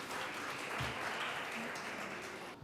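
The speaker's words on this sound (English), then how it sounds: "Give them a round of applause." Audience applause at a women in fintech summit, greeting an all-female hackathon team with steady broadband clapping that fills the short clip at moderate loudness, without pauses or voices.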